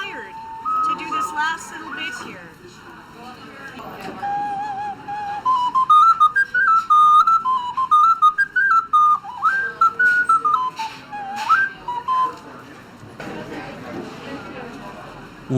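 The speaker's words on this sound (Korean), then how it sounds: "우아한 소리를 내는 오카리나는 대개 도자기로 만든다" A ceramic ocarina plays a simple wandering melody of clear, pure sustained notes, with faint background chatter around it in Pike Place Market, Seattle.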